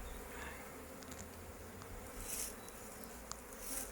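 Honeybees buzz faintly around an open, swarming-season hive, a soft continuous drone with occasional individual bees passing nearer, and no voices.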